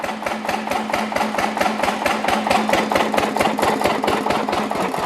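A Lister CS stationary diesel engine runs alone at a steady idle, its exhaust beating out a loud, even, rapid thumping rhythm with a mechanical clatter.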